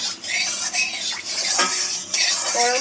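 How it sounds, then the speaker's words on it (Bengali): Hot oil stirred in a kadai, a metal spoon scraping and clinking around the pan over a faint sizzle, with no voices. "এবার কড়াই চারপাশে একটু করে নেড়ে নিচ্ছি ভালো করে"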